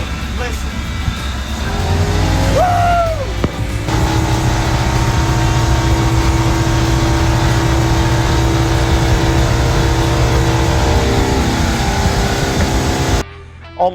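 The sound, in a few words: 1969 Seaflite motorboat engine speeding across a lake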